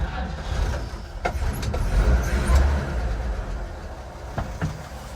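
An old 1951 Chevy 3100 pickup's engine is cranked with its starter button and catches, settling into a steady low rumble with a few clicks and clunks, heard close up from inside the cab.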